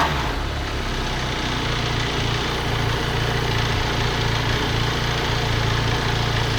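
A QJ Motor SRT 500 adventure motorcycle engine idles with a steady low rumble, continuous and fairly close, with no talking.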